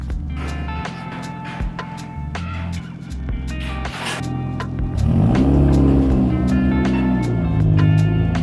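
A race car engine idles and blips with uneven revs while the car is loaded onto a trailer, the exhaust note loud and close with clanks and knocks around it, rising into a stronger rev near the end.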